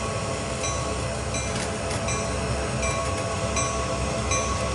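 A CN Rail train in Train Sim World, set on the Canadian National Oakville line, rumbles steadily with rail and wagon noise, a continuous close mechanical drone with faint clicks and squeals throughout, no talking.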